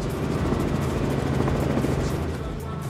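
Helicopter flying overhead during a Key West poker run boat event, a loud, continuous broadband rotor and engine roar that stays steady throughout.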